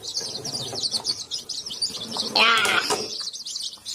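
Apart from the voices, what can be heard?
newly hatched chicks chirping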